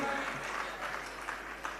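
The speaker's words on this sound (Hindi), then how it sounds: "जरा तालियां तो जोरदारी से बजाइएगा मिलकर" A congregation at a Jain sermon gathering applauds together, a steady dense wash of clapping that stays fairly faint and distant throughout.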